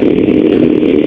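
Motorcycle exhaust roar comes through a Maxto M2 helmet intercom while riding, loud, close and buzzing with a rough mid-range growl over about a second, no talk.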